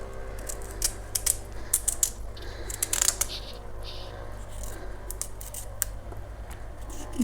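Vegetables cut by hand in a home kitchen: a series of faint, irregular crisp snips and clicks, close by, over quiet background hum.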